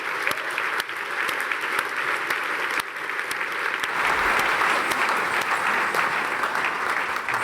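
An audience gives sustained, even applause at a graduation gathering, clapping steady and fairly close, swelling slightly midway.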